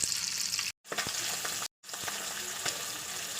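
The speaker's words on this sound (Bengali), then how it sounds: "তেলটা গরম হলে মাছটা ভাজা শুরু করে দেবো।" Fish fry in hot oil in a pan with a dense, continuous close crackling sizzle, broken twice by brief silent gaps.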